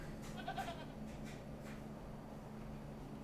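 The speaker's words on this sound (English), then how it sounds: "There's a goat." A goat in the Excavation of Hob's Barrow adventure game lets out a couple of short, faint bleats near the start, over a quiet ambient background.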